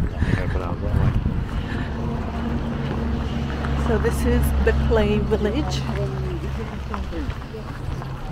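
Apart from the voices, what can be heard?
wind blowing at clay village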